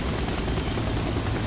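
A helicopter in the video game Splinter Cell: Double Agent gives off a dense, steady rotor-and-engine roar, loud and unbroken for the whole brief moment, with no voices.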